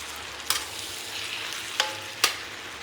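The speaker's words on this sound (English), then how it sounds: "Then we're going to start stirring all this stuff" Ginger chicken with rice wine sizzles in a hot pan while being stirred, a soft continuous frying hiss broken by a few sharp scraping clicks of the utensil against the pan.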